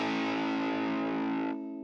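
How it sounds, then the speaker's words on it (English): Overdriven electric guitar through a Line 6 Helix amp model with the drive turned up, a single loud, sustained distorted chord ringing out, then cut off abruptly near the end. "If I turn it up, it makes it sound like the amp is overdriven."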